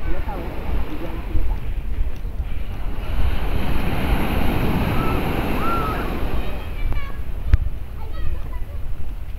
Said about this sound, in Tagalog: Ang lakas ng alon dito.